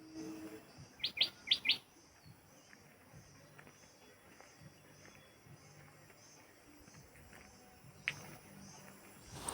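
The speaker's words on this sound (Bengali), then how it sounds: "কত রকমের যে পাখি ডাকছে সে আর কি বলবো" Birds calling around a hill homestay at Kolakham in North Bengal: a quick burst of bright, high chirps early on, then a faint steady outdoor hush with one more call near the end.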